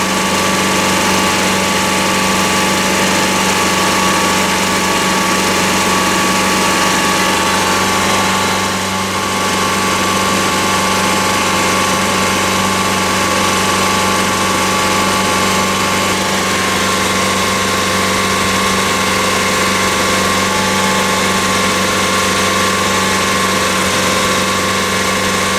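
Car engine held steady at about 3,000 RPM with the throttle locked during a catalytic converter cleaning test, giving a loud, unbroken drone with a constant hum and vibration and no voices.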